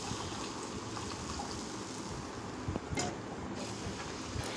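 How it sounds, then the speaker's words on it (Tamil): Tamarind water is poured into a pan of simmering Ayala fish curry, a faint, steady trickling splash with a couple of small clinks near the end. "நமக்கு தேவையான புளியை ஊற்றிக்கலாம்"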